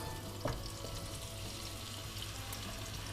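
Sliced potatoes frying in a pan of flavored oil, a steady soft sizzle and crackle with a brief clatter near the start, heard fairly faintly and alone.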